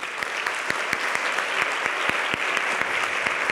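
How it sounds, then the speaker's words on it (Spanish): A student awards ceremony audience gives warm applause, dense steady clapping with individual sharp claps standing out, sustained evenly throughout with no talking. "Para todos ellos y ellas les pido un caluroso aplauso"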